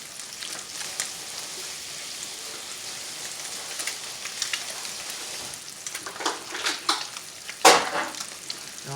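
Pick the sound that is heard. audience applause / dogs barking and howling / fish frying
fish frying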